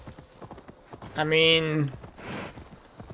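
A horse in Assassin's Creed Valhalla moves along with steady, rhythmic hoofbeats through the whole stretch, while someone briefly speaks and a louder tonal cry rises over the hooves in the middle.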